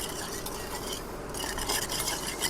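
A long-unused, rusty iron cooking pot is scrubbed in a continuous gritty rasp with metallic scraping. The sound is close and steady throughout, with no talking.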